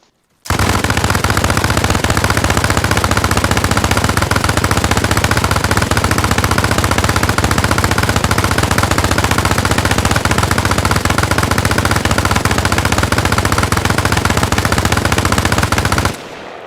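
Continuous rapid automatic gunfire from a rotary minigun in the video game Arma Reforger, loud and unbroken for about fifteen seconds before cutting off abruptly.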